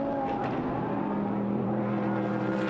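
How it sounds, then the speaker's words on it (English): A BMW GT1 race car runs at the Nürburgring, its engine holding a steady droning tone that shifts pitch slightly as it speeds through the circuit, heard at a distance without voices. "as the BMW desperately tries to claw its way closer, clouting the curb"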